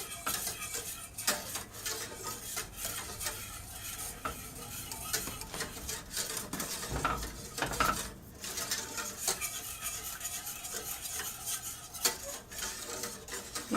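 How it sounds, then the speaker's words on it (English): A utensil scrapes and clinks against a pot in continuous stirring as thick eclair pastry cream cooks on the stove, with faint sizzling underneath and no talk. "And you do want to stir this continuously."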